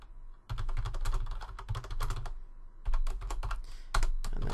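Quick, close clatter of computer keyboard keys while Pascal code is typed, coming in three bursts of rapid keystrokes separated by short pauses, with no talk.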